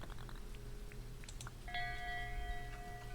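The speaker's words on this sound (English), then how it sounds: "So you can ring the bell." A bell is struck once in the Dinkum video game and rings with a clear, sustained metallic tone that hangs over a soft background of game ambience and faint ticking.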